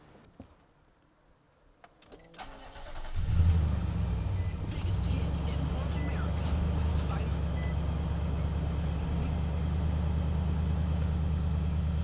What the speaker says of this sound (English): We're gonna go ahead and start the truck up